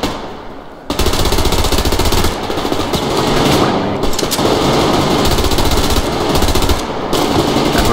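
Sustained automatic gunfire in the video game Survarium, loud and close, a continuous rattling stream of shots with a few short pauses between long bursts.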